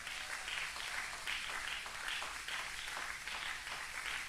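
A church congregation applauding, steady rhythmic clapping from many hands that pulses in regular waves and is heard from mid-distance at moderate level.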